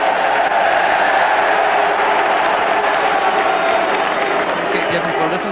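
Football crowd at a Leeds United home FA Cup tie against Manchester United, clapping and jeering an opposing player, a dense continuous roar of applause and voices filling the stadium.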